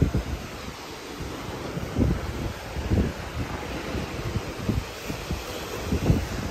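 Strong wind buffeting the microphone on a beach in Hawaii, a continuous low roar with gusty swells, and surf faintly underneath.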